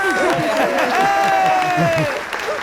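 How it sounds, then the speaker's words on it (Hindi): An audience claps loudly and briskly in a busy burst, while voices ring out over the applause. "तालियां, तालियां, तालियां, तालियां बजाइए, तालियां।"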